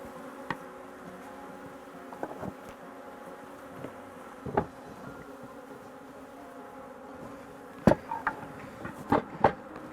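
Honeybees buzz steadily around opened hives during an organic honey harvest in Fujairah, a soft continuous hum close by, punctuated by occasional faint knocks and taps of hive equipment.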